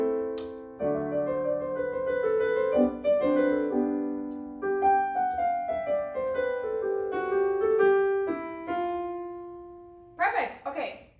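Solo piano plays a lively beginner arrangement of a song, a bouncy melody over a light left hand, clear and close, with a brief noisy rustle at the very end.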